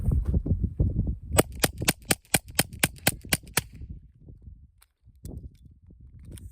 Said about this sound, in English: The Griffin Checkmate HD, CCI mini mags, and then we're gonna go subsonic